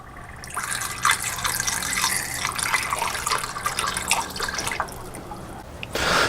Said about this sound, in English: and then we'll add some water